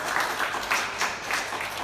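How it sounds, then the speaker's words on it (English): A room of people gives a short round of applause at a year-end talk, a moderate, steady patter of clapping heard from a little distance. "I want you guys to give a clap to Soraya and her team one more time"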